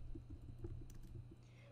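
A file name is typed on a computer keyboard, a quick run of light, closely spaced key clicks with a low steady hum beneath, fairly quiet and without speech.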